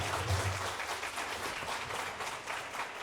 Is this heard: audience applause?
yes